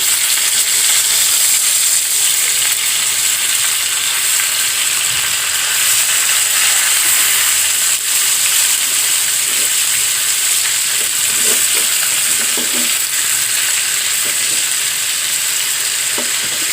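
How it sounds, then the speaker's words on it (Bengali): Chicken pieces sizzling loudly on a hot grill pan as they are turned over, a continuous dense hiss and spatter with a few scraping knocks of the pieces being flipped. "চিকেন গ্রিল এবার আমি ওই পিঠ করে দেব, ওই পাশ করে দিচ্ছি"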